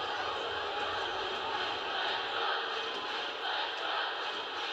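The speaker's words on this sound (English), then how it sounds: "Crowd chanting, let's go." Basketball video game crowd from NCAA Basketball 10, a dense, steady roar of many voices that is loud and continuous, with no distinct chant pattern standing out.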